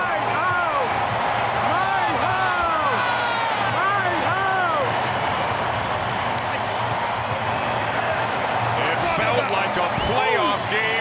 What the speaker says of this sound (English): just listen to this reaction from Vladdy in the crowd